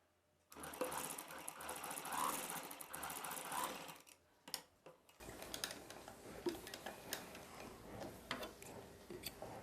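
A sewing machine runs in fast continuous bursts, stitching a tuck across the middle of a sleeveless umbrella dress; it stops briefly, then resumes with lighter clicking, close and clear.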